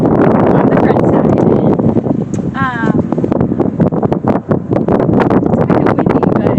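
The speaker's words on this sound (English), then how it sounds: "It's kind of windy" Wind gusting at an outdoor homestead building site where rafters are being raised, loud buffeting rumble against the microphone, with rustling and a brief higher creak, and a person talking over it.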